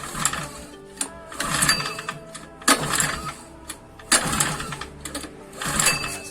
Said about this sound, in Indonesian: Saya engkol dulu beberapa kali agar nanti lebih mudah menyala.